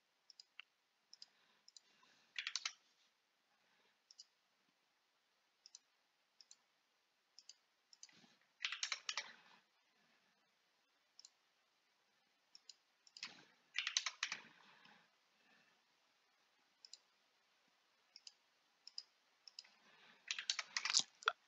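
Computer mouse clicking in CAD drafting software while dimensioning a drilled part, heard as sparse quiet clicks and short clusters of clicks at irregular intervals, close and alone.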